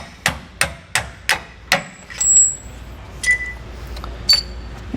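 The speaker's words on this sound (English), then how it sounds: "I'm going to go ahead and use my hole punch again and hammer it out" A hammer strikes a hole punch to drive out a MORryde tandem axle suspension part on a 2018 Shasta trailer: five sharp, evenly spaced metallic blows, then a few lighter clinks, close and loud.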